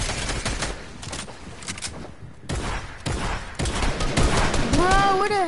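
Rapid bursts of automatic gunfire crackle in the military shooter game Squad, coming in dense volleys separated by short pauses, loud and close with a few whistling sweeps near the end.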